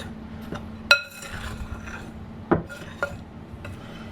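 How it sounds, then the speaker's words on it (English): A teaspoon stirs dessert ingredients in a bowl, with a few sharp clinks against the side at irregular intervals over soft scraping, close and fairly quiet. "Let me just stir this together real quick."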